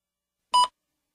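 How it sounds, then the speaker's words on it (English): A single short electronic beep, clean and steady-pitched, standing alone in silence. "Please begin speaking after the beep."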